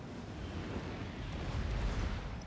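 Artillery bombardment during a siege battle in Total War: Warhammer 2, heard as a dense, continuous low rumble of distant blasts and booms with no distinct individual shots, steady throughout.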